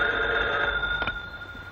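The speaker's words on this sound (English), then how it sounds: "Joyce Edwards phoning you from the hospital" A telephone bell rings steadily in a 1942 radio serial scene, a close, continuous electric ring with no voices over it.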